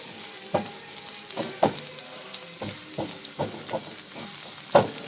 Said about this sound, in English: We'll just wait for mustard seeds to get crackled and a little bit garlic to get brown